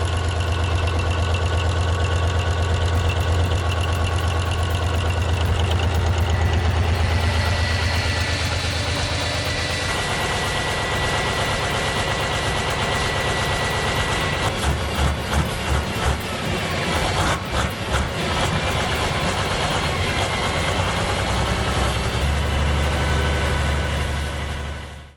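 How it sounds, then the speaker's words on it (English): A 16-cylinder 620-V16 diesel engine runs continuously with a deep, loud rumble that holds steady and then shifts into rougher pulsing mid-way before settling again, with no voices over it. "this 16-cylinder diesel engine is perfect for tough jobs like running generators"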